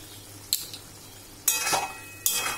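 Chicken with salt, Kashmiri red chilli, sugar and pepper sautés in a pan, faint background sizzle punctuated by three bursts of scraping and stirring, the last two longer and louder.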